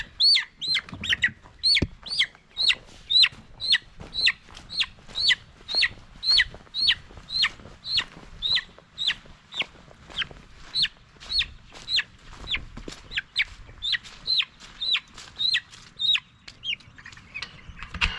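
Chickens in a coop at night, huddled together for warmth off the perch, give a steady run of short, regular clucks and chirps, close and clear, over a low background rumble, with no talking.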